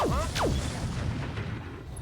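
A heavy Gauss rifle fires in the mech combat game RogueTech, one deep booming shot with a sharp descending whine, followed by a rumbling tail that lingers under faint game ambience.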